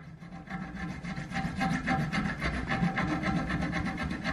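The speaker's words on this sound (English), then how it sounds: "I'm just using this hacksaw blade. I got ground down a little bit to get a nice flat point. I'm just gonna cut that." A ground-down hacksaw blade rasps back and forth across a six-string bass neck, cutting a fret slot in wood with steady, close, quiet scraping strokes and no talking.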